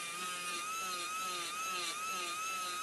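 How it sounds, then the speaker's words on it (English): A low-speed polishing burr works the cameo surface of a complete denture, giving a steady high-pitched whine with a faint wavering tone, continuous and close with no pauses. "Zest recommends using these on low speed in a continuous and smooth motion, just providing some final polishing procedures for the cameo surface of the complete denture."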